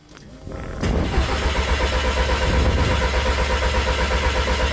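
A car engine cranks over with its injectors unplugged, a loud close starter whirring in a fast even pulse after a brief click, sustained without the engine catching.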